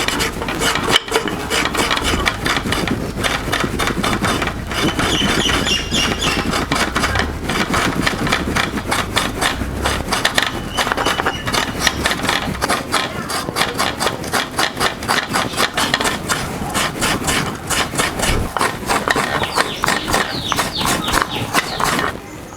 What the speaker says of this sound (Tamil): இந்த தேங்காய் உடைச்சிட்டு திருவி எடுத்துக்கலாம்.